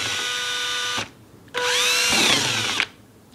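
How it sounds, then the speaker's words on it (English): A drill with a hole saw bores through thin wood to cut round pulley blanks for a compact compound bow, in two loud, close, whining bursts separated by a short pause. "you're going to need a hole saw which attaches into your drill"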